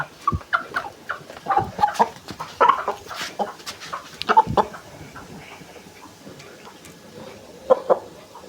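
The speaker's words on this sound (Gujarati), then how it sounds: "આ છે આપણો કુકડો." A rooster near at hand gives scattered clucks and short squawks in irregular bursts, with rustling and handling noises between them, before things quiet down and a final couple of calls come later.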